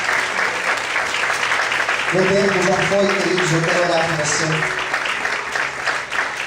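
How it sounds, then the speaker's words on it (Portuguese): A church congregation at an evening service applauds in praise, a broad wash of clapping under a pastor who keeps speaking over it, with soft tonal music rising in the middle. "Se você crê nisso, glorifica mais uma vez e aplauda."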